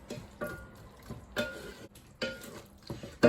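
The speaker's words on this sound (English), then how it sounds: "give that a stir around." A spoon stirs sausage casserole with thyme and tomato puree in a pan, giving several soft scraping, sloshing strokes in an irregular rhythm, quiet and close, with light sizzling underneath and no talk.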